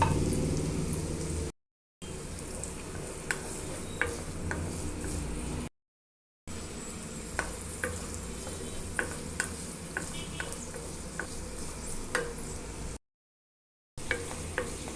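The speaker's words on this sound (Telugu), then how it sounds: "ఇప్పుడు ఇది ఆయిల్లో ఫ్రై చేసుకుందామండి" Amla (Indian gooseberry) pieces fry gently in a tablespoon of oil, giving a steady soft sizzle with occasional stirring clicks and light spatters, close and alone with no voices, broken by a few brief silent gaps.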